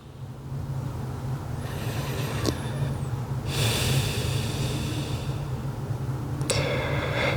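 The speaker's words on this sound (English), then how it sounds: "let's take a few more breaths here" Slow, steady breathing during a yoga stretch for sore legs, with long airy exhales rising and falling at close range over a constant low hum, no talking.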